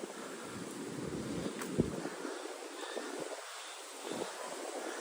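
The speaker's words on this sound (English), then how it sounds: "You hear the wind? A little windy out here today." Wind buffets the microphone in a low, continuous rumble with a few gusty bumps outdoors in New York City, fairly quiet overall and with no talking.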